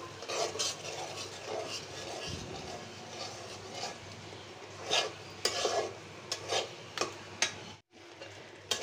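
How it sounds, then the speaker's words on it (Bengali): Shrimp sautéing in a pan over a clay stove in a Bangladeshi home kitchen: a steady close sizzle with repeated scraping and stirring strokes, and sharper clatters toward the end. "চিংড়ি মাছ কষিয়ে নিলাম।"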